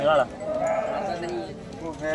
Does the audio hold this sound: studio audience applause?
no